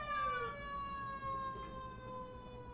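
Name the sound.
emergency vehicle sirens outside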